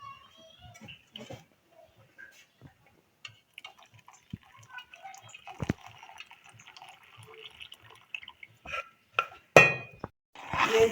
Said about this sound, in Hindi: अब हम इसको आहिस्ता से इसमें शामिल करेंगे और साथ ही हम इसको हिलाएंगे।